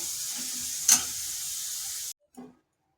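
Diced potatoes sizzling steadily in hot oil for a vegetarian fig curry, a broad hiss that holds for about two seconds, broken once by a sharp stir, then cutting out with a brief clatter after.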